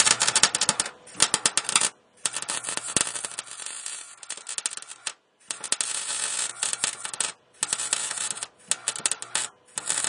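Welding on the rusty frame of a Chevy C10 truck, a sharp crackling, sputtering buzz in close bursts a second or two long, broken by short silences between passes.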